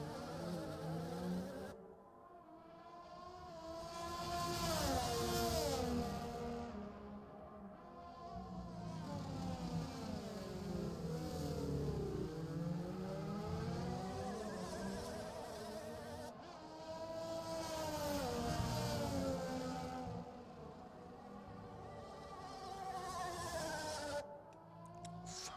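A glitching race car engine in a sim racing game at the Austrian GP gives a continuous buzzy whine. Its stacked tones warble and sweep up and down, steady and fairly loud throughout, with no talking.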